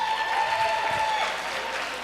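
A comedy theater audience claps in a brief, even patter that is fairly soft and spread through the room, lasting about two seconds, with a thin tone running under it.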